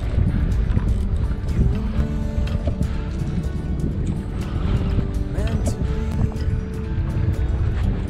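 A fishing boat out on the deep sea off India while anglers target kingfish, its motor and hull chop making a constant loud rumble with heavy wind buffeting the microphone.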